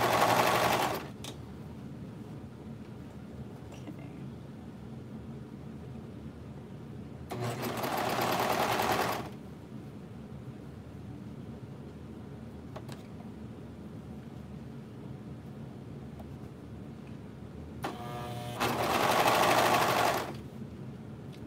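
A sewing machine stitches binding around the neck hole of a kids' garment in three separate bursts of a couple of seconds each, loud and close, with quiet gaps between them.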